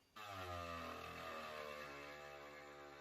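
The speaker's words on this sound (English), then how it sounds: "So I'm going back over the corner here with my little rotary tool." Small rotary tool fitted with 60 grit sandpaper, sanding the corner of a wooden sideboard: a loud, steady high-pitched whine with strong harmonic tones that starts abruptly and holds continuously, close up.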